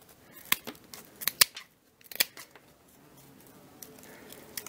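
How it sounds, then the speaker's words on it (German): Scissors snip off the overhanging ends of a handmade natural wreath, several sharp cuts close together and then a few more after a short pause, close and fairly quiet. "Überstände abschneiden."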